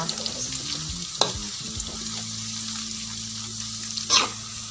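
Garlic fries in hot oil, a steady close sizzle throughout with two sharp clinks of a utensil against the pan and no voices.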